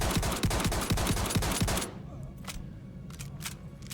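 Rapid S38 pistol fire from the Star Citizen video game cracks in a quick, steady string of close shots for nearly two seconds, then stops, leaving a few scattered softer pops and clicks.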